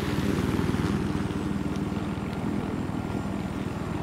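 A helicopter in the Battlefield 4 test range gives off a steady, close rotor thump with a dense engine roar that holds level throughout, with no talk.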